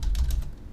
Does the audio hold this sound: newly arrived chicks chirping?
no